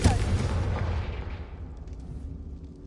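A Confringo blasting spell goes off in a Harry Potter video game, a loud, deep booming explosion that rumbles and fades over about two seconds, with faint debris sounds trailing after.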